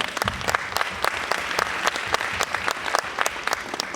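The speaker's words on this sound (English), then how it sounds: "Give them a round of applause again." Audience applause after a vice president's speech at a Montgomery County gathering, dense steady clapping throughout with sharp individual claps standing out, moderately close and continuous.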